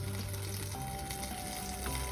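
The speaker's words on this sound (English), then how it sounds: "It's still boiling." Cajun sauce for salmon pasta bubbles and sizzles steadily in a skillet on very low heat, a soft continuous crackle with no voices.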